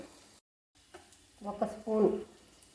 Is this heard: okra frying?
yes